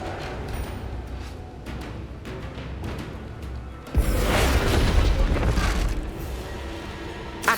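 Confringo explosive spell blast in Hogwarts Legacy, a sudden loud booming burst after a quieter stretch of game ambience, followed by a few seconds of rumbling, crackling debris before fading.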